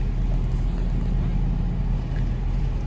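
Car engine pulling away after a shift into second gear on a driving test course, a steady, loud low rumble and drone heard from inside the car with no talk.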